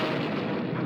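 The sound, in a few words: cartoon cannon blast sound effect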